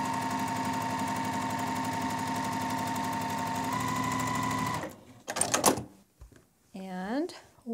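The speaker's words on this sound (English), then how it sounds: "We're going to do the same thing, sewing corner to corner." Sewing machine stitching quilt block squares corner to corner for a maple leaf block, a steady fast mechanical whir for about five seconds, then stopping, followed by brief rustling and a short voice.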